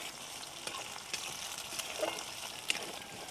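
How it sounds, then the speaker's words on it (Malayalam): Eggs frying in hot oil for an onion egg fry, stirred in the pan: a steady close sizzle with repeated light scraping clicks of the spoon, no talking. "ഇനി നമുക്കിതിൽ നന്നായിട്ടൊന്ന് ഇളക്കി കൊടുക്കാം"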